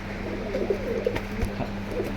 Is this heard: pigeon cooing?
yes